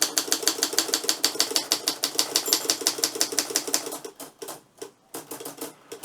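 An Olympia Progress typewriter typed at a steady, rapid clatter of crisp keystrokes, close and loud, then slowing into scattered strikes as the carriage nears the line end and the bell sounds.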